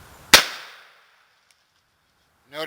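A single sharp gunshot from a .442 Webley revolver firing a full-sized cartridge, a loud close crack with a short decaying ring-out, followed by quiet and the start of a voice at the end.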